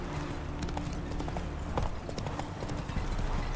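Hooves of Roach, Geralt's horse in The Witcher 3, clopping in a steady rapid trot, continuous and fairly close over a dense game ambience.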